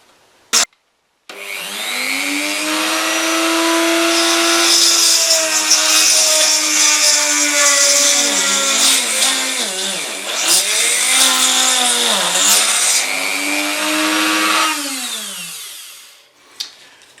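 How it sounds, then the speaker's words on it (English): A power drill bores into a Dinky Toys Pullmore 982 car transporter under restoration. After a brief click it gives a loud, continuous whine whose pitch dips several times under load, then spins down near the end. "I'm drilling into this bit here"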